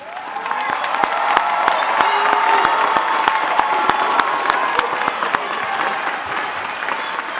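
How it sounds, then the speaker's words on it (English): A large crowd at a high school graduation ceremony applauds steadily and loudly, a dense wash of clapping with a few sharper claps standing out, sustained throughout. "Please applaud the achievements of our top 10 students."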